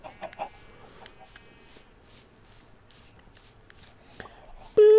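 Minecraft chicken clucks come in a few short bursts over quiet game ambience with soft shuffling clicks, ending in a louder tonal game sound.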